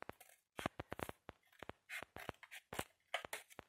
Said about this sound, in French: Là, je vais couper les cartes.